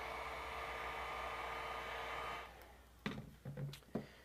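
A heat gun blows a steady, close whooshing hiss while warming the edges of an iPhone 4 to loosen the screen adhesive, then stops, followed by a few light handling knocks.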